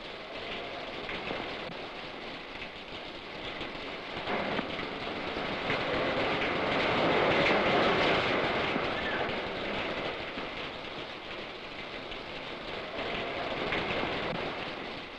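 Steady rain falls continuously outdoors, a dense, even hiss that swells slightly in the middle and persists throughout with no voices.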